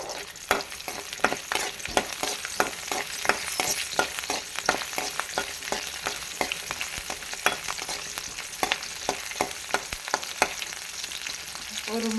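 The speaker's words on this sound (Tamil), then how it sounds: "அதே எண்ணெயில் வந்து நம்ம ஒரு நாலு பல் ஒரு நாலஞ்சு பல் பூண்டு சின்ன வெங்காயமும் சேர்த்துக்கலாம் ஓகேங்களா நல்லா வதங்கட்டும்" Garlic cloves and small shallots sauté in hot oil, giving a steady close sizzle punctuated by frequent sharp clicks and scrapes of a spoon stirring in the pan.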